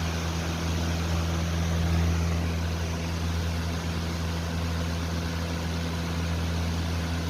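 A Crompton Trans Air 12-inch exhaust fan runs steadily, with a constant low hum and a broad airy whoosh that stays level throughout, close by and with no talking.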